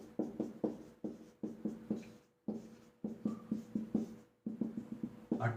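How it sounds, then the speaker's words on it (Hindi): Chalk or marker strokes on a board as a question is written out, a steady series of short scratchy taps in quick rhythmic bursts with brief pauses, close and clear with no talking. "पहले क्वेश्चन को हम लिखते हैं।"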